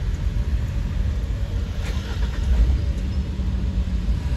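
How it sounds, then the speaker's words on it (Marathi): A 2021 Tata Intra V30 pickup with about 239,590 km and a gearbox problem idles with a steady, low diesel rumble, close and continuous. "चालू करा बरं गाडी"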